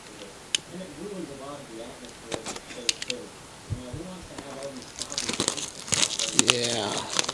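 Packs from a 2012 Panini Americana retail blaster box being torn open: crinkling and ripping foil wrapper that grows busier and louder toward the end, with someone talking over the handling.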